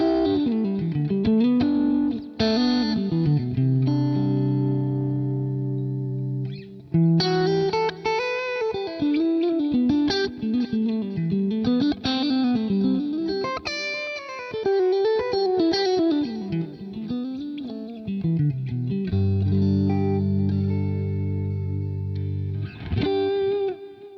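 Electric guitar with a lower-gain tone played through a Quad Cortex amp modeler, sustained chords and melodic lines thick with chorus and reverb effects, loud and continuous alone for the whole stretch.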